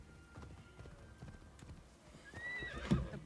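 Horse hooves clip-clop steadily in the video game Assassin's Creed Shadows, building toward a close, loud neigh near the end, with a faint ambient backdrop and no talking.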